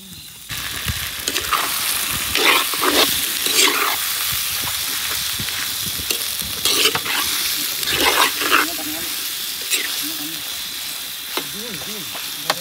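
Duck meat sizzles in a pan while being fried and stirred for an Assamese-style duck dish. Steady frying hiss runs throughout, broken by bursts of scraping stirs, with a voice speaking briefly near the end.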